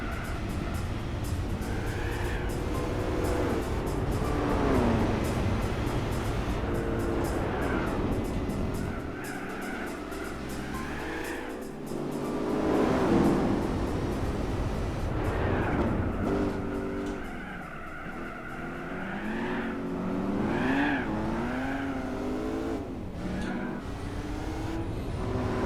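A big-block Buick Special custom car in Gran Turismo 4 roars loudly throughout, its engine note rising and falling through repeated revs and gear changes, with occasional tire squeal.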